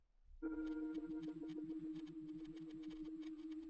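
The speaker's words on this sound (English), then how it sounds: "I added this texture from my one-shot kit." Homecoming texture sample from a one-shot kit, a sustained tonal hum with a steady fluttering, pulsing grain that starts abruptly and holds evenly, quiet and alone.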